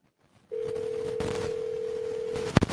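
A phone call rings out through an earpiece: one steady two-second telephone tone, followed by a few short clicks.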